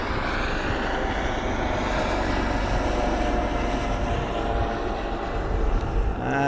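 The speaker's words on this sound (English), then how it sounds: "I'm assuming that's a Navy chopper." A red and white Navy helicopter passes overhead with a loud, steady engine roar that fills the whole stretch without letup and swells slightly toward the end.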